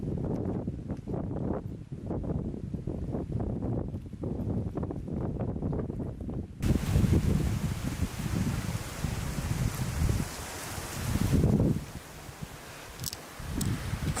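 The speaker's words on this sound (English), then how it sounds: "It's a little windy." Gusty wind blows through El Yunque tropical rainforest in Puerto Rico, with loud microphone buffeting and rustling foliage that swell and fade over a long stretch.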